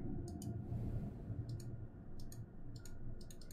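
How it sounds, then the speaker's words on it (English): Typewriter keys clicking in the puzzle video game The Room 2, short bursts of rapid clacks separated by pauses, crisp and close over a low steady hum. "It's a typewriter!"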